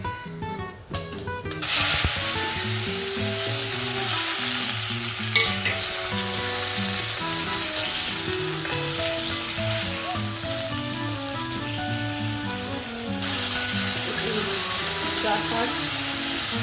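Tomato goes into a hot masala of freshly ground whole spices for paneer kofta, setting off a loud, sustained sizzle and hiss with stirring, while tonal, melody-like sounds play steadily underneath.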